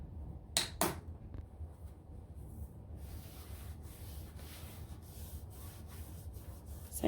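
A napkin soaked in 91% alcohol wipes across the back of a sanded canvas in quiet, steady rubbing strokes, preceded by two brief sharp scuffs near the start.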